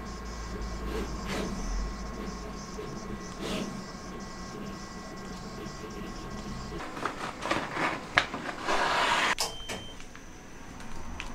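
Huge printers and cutting machines running in an office, a steady mechanical whir with intermittent clunks, whooshes and sliding movements that grow busier and louder toward the end.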